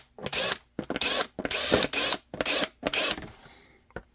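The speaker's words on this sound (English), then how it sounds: "countersink to deburr," Countersink bit deburring a drilled hole in holster material for an FN 509T pistol holster, five short scraping, grinding bursts in quick succession, close and alone, fading to a few light clicks.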